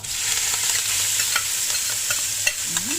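Fish larb being stir-fried in hot oil left over from frying fish skin, a bright, steady sizzle with quick scraping stirs and small clatters of the utensil in the pan, close and without talk.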